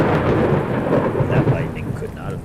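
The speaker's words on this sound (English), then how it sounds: "That lightning could not have been better timed." Thunder rumbles and cracks through a steady storm with rain in the Warlord: Britannia video game, a dense, loud roll that holds throughout with no break.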